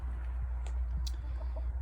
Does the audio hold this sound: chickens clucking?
yes